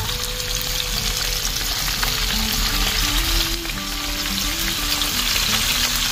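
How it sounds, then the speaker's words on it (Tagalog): Steady, loud sizzling of fish frying in hot oil, continuous crackling throughout with no talking. "Kasalukuyan natin prito."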